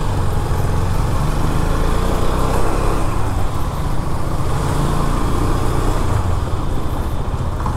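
A Husqvarna Svartpilen 250 motorcycle rides up into a showroom parking slot, its single-cylinder engine giving a close, continuous, fairly loud drone with no pauses.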